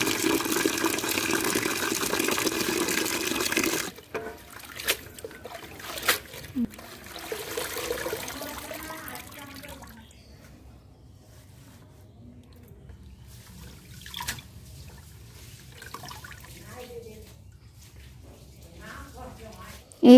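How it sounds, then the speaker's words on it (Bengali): Freshly picked mustard greens from a home courtyard are washed in water. A steady rush of running water comes first, then quieter, irregular splashes and dribbles as the leaves are handled up close. "এবার শাকগুলোকে আমরা ভালোভাবে ধুয়ে নেব।"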